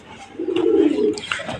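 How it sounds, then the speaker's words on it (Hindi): A pigeon gives a single soft, low coo close by, against quiet surroundings. "काफ़ी समझदार कबूतर है ना"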